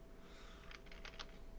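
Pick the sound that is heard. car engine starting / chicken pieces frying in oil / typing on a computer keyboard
typing on a computer keyboard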